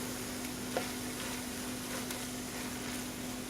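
Ground turkey filling for stuffed sweet peppers sizzles and gets stirred in a pan on the stovetop, a steady soft frying hiss with faint scraping, plus a steady low hum under it.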